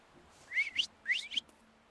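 A person whistles two quick pairs of rising notes, faint and close, with nothing else around.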